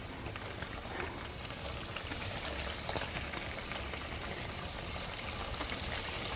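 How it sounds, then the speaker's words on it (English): A second batch of fish sizzling in oil in a skillet, cooked American style, a steady, dense crackle and hiss that continues evenly throughout at close range with no talking. "Now the second batch always, see, for some reason seems to fry better than the first batch."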